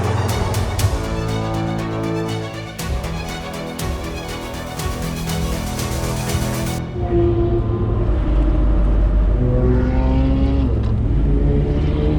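A loud car engine roars continuously while lapping the Nurburgring, the revs climbing and dropping through gear changes with a steady, close in-car drone throughout.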